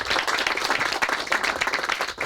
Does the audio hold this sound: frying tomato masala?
no